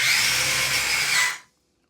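A VitaBouncer 2.0 machine running in second gear makes a loud, steady mechanical whir with a grinding buzz, held for over a second before cutting off abruptly into silence.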